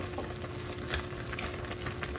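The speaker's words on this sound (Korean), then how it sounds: "일단 신라면 두 봉을 넣었고요." Two packs of Shin Ramyun noodles drop into a pot of boiling water, giving a continuous bubbling, sizzling hiss with a single soft splash partway through, steady and close, with no talking.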